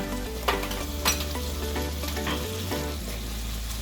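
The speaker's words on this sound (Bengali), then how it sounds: "পেঁয়াজের পেস্টটাকে খুব ভালো করে ভেজে নেব।" Onion and ginger paste fries in a pan for Bengali doi katla, a dense continuous sizzle with a couple of light stirring scrapes and a low hum underneath, close and steady, with no talk.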